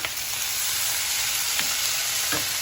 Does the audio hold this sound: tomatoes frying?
yes